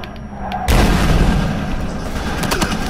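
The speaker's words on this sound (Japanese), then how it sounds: "あれなんか爆発したんだけど。" A sudden loud boom bursts in after a quieter stretch, followed by a sustained rumbling, crackling roar of a vehicle explosion in Battlefield Hardline beta, with no talking.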